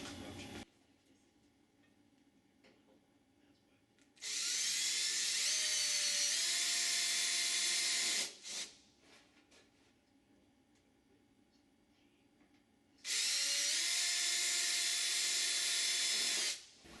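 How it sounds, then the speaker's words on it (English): High-pitched drill whine as a number 40 bit bores pilot holes in a Sonex aircraft elevator skin, in two sustained bursts of about four seconds each with quiet handling between. "use our number 40 drill bit and drill the pilot holes"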